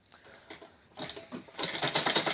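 A sewing machine stitches fabric after its thread has been tightened, a mechanical whirring that builds in bursts, growing louder and denser toward the end, close up with no talk.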